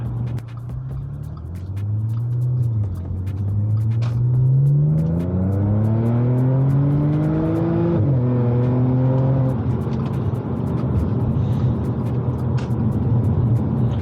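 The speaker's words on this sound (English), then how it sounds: "as you can probably tell from that acceleration, this car does not hang about at all." A tuned 500hp Audi S5 accelerating hard, heard from inside the cabin, engine pitch climbing steadily through the gears with a shift partway, loud and sustained road rumble beneath.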